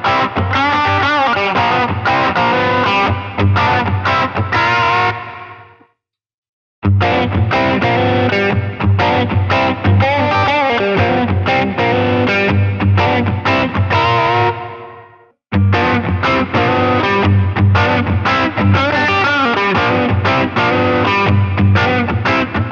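An Epiphone Les Paul Classic (2020) with coil-split pickups plays distorted, chugging riffs in three loud passages, each ringing out and fading to silence before the next begins.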